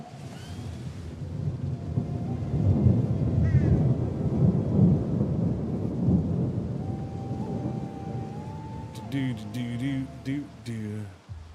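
In a video game, steady rain hisses under a deep, rolling rumble of thunder that swells and fades, with a few electronic tones and a voice near the end.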